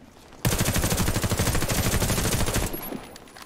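Rapid automatic gunfire from the free-to-play shooter Warface on PS4, a loud sustained burst of fast shots lasting about two seconds before cutting off, with no talking.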